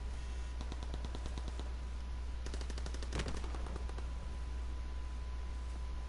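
A Grease Gun fires rapid automatic bursts of suppressive fire in Call of Duty WWII. Two short strings of shots come at a moderate distance over a steady background hum, with a brief pause between them.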